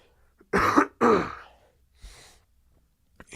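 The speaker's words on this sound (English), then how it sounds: "Clear your throat, man." A couple of rough, close throat-clearing bursts in quick succession, followed by a softer breathy rasp and a faint click.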